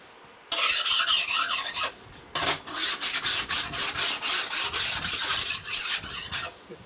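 Rhythmic rasping of a file scraping metal on a 1972 Harley-Davidson Sportster 1000cc ironhead engine during a rebuild, quick regular back-and-forth strokes close by, pausing briefly before resuming at a steady pace.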